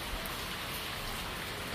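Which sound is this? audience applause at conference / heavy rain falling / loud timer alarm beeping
heavy rain falling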